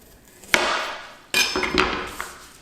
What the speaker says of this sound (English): so I'm going to cut that into little pieces